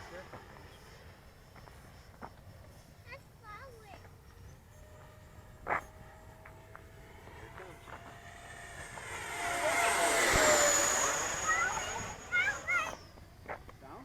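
An FMS BAE Hawk radio-controlled model jet whines overhead, faint at first and then swelling into a loud rushing pass that sweeps down in pitch as it flies by, with scattered voices and footsteps nearby.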